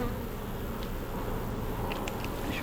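Honey bees swarm at an open hive with a full brood box, making a dense, continuous buzzing drone at close range with a few brief higher whines over the top.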